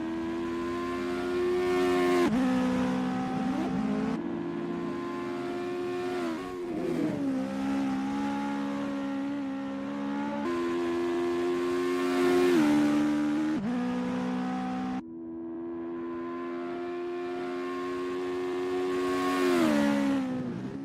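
Legend race car engine on a practice out lap at Mid-Ohio in a sim racing game, droning steadily and close. It revs up and drops back through several gear changes and lifts over about twenty seconds, with no voices.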